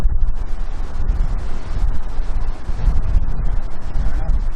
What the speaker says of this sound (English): Oh damn, it's super windy, guys.